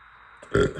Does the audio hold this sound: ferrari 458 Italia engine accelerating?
no